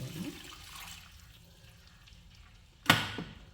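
A sudden splash and gush of water poured into ragi flour in one quick burst after a quiet stretch, close and fairly loud.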